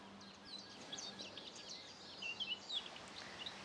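Birds chirp faintly in the woods near a bridge, with scattered high tweets and short calls over a low, steady outdoor hum.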